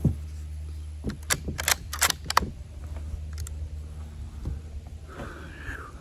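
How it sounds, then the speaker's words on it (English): A rifle fires at a pumpkin outdoors, giving a few sharp, loud cracks close by over a low steady hum, with a faint rising whine near the end. "try number 2 to at least get the shot of the impact of the bullet hit the pumpkin"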